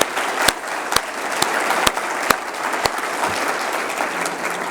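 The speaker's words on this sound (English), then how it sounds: "So a round of applause for Courtney." An audience at a conference general session claps steadily in a dense continuous wash, with a few sharper louder claps standing out, and no voices over it.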